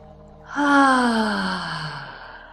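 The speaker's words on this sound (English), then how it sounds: "Exhale through the mouth." One long, deep breath pushed out through the mouth during a calm yoga breathing exercise. It is a close, audible exhale that swells quickly and then slowly fades, heard alone.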